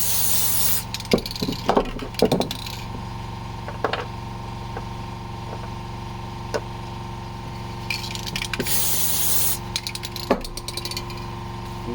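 Aerosol spray applying a gentle coat to the jaws of a Oneway Talon woodturning chuck: a few short hissing bursts separated by pauses, with light clicks and handling knocks of metal parts in between, close and alone without talk.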